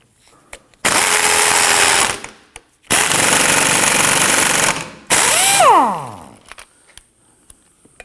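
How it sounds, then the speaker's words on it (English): An impact gun on a rear sway bar link nut of a 2003-2014 Volvo XC90 fires three loud, close, rapid hammering bursts of a second or two each, the last winding down with a falling whine, separated by quiet handling clicks. "if your impact gun is strong enough, you can simply tighten this until it snaps it off"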